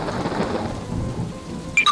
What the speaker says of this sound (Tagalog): Bumuhos ang ulan at malakas ang kulog at kidlat.